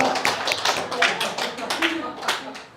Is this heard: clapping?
yes